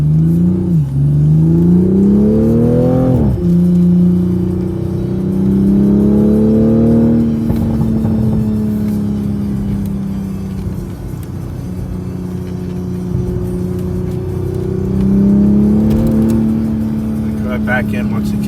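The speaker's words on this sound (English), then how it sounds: "Pretty nice, shifting, downshifting, active exhaust, pretty cool." A 2020 Toyota Supra with active exhaust drives along, its engine note rising and falling through upshifts and downshifts with a deep, steady exhaust rumble close by throughout.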